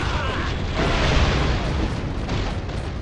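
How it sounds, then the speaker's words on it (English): Explosions in the 2003 action game Armed and Dangerous: dense, rumbling blasts and debris roar running continuously and loudly for a few seconds, with no speech. "Big loud bangs, rubble everywhere, and enemies are guaranteed to go flying"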